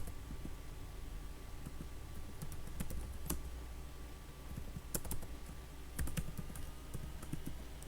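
Keys clatter in an irregular run of soft clicks and occasional sharper taps as someone types on a computer keyboard at a desk, steady low room hum underneath, with no speech.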